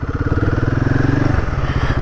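Royal Enfield 450 Guerrilla motorcycle being ridden, its single engine thumping loud and close with a steady, rapid pulsing beat and a slight shift in pitch as the revs change.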